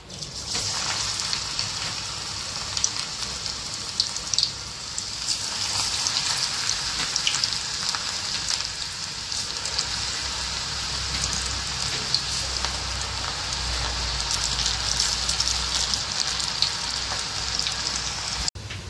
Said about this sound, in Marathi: आता आपण आपले भजे तळून घेऊयात.